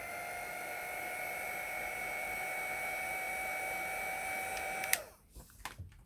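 A heat tool blows hot air onto a cling rubber stamp label, a steady loud whirring whine with a high tonal hum that runs for about five seconds, then cuts off abruptly, followed by a few faint handling knocks.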